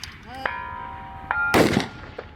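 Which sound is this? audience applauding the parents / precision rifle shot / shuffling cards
precision rifle shot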